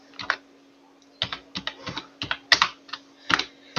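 Typing on a computer keyboard while entering text into a Blogger page, heard as a series of close, distinct key clicks in uneven bursts with short pauses, set against a faint steady background hum and no talking.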